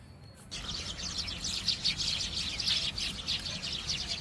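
Birds chirping busily and continuously, a dense chorus of high tweets over a faint low background rumble, starting after a brief quiet moment.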